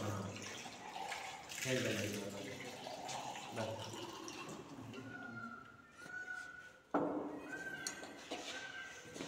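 Lab glassware is dipped and filled with water in a school chemistry lab, giving splashing, gurgling water sounds while people talk over it.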